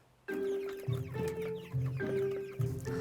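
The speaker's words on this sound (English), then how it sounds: "We're checking the meat chickens." Month-old meat chickens cluck nearby in a steady chorus of short, repeated calls with a low background rumble.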